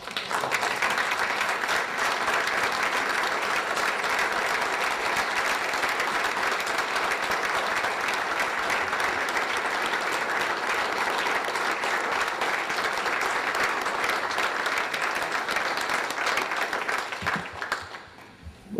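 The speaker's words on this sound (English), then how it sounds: "thank you very much for that round of applause" A standing ovation at an anniversary gathering, a long, dense roar of applause from a large crowd that holds steady for many seconds before fading out near the end.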